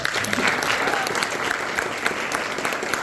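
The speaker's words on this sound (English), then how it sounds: "So another round of applause for her." An audience at a community faith gathering breaks into loud, sustained applause, dense clapping filling the room for a few seconds with faint voices mixed in.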